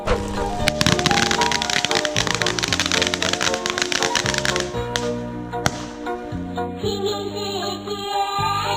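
Firecrackers set off during a Qingming grave-visit ritual in Chum Saeng, Thailand, a dense run of sharp crackling pops and bangs with tonal music underneath, the bursts thinning out near the end.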